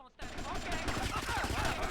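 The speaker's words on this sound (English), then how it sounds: "Who is shooting me?" Sustained gunfire in GTA Vice City, a steady dense clatter of weapon fire that starts abruptly and runs without pause, with a voice faintly mixed in.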